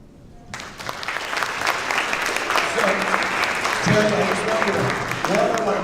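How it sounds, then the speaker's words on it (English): Audience at a school district town hall applauds students, sustained dense clapping from many people building and holding, with voices and cheers rising through it. "give them another round of applause"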